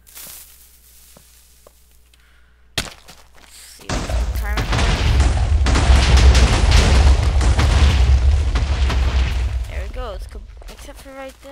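A Minecraft TNT block detonates during a redstone puzzle: a brief sharp pop, then a loud, sustained roaring blast that rumbles for several seconds before fading, with no talking over it.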